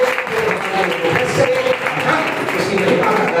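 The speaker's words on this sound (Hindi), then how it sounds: "जोरदार ताली बजाएं" A church congregation applauding, a dense steady wash of many hands clapping that fills the room throughout, with voices talking over it.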